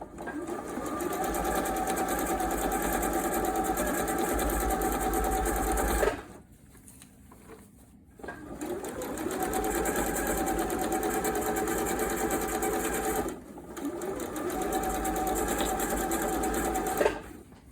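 Sewing machine stitching a quarter-inch seam through fat quarter fabric, loud rapid mechanical whirring in long runs with two short pauses between bursts, no talk.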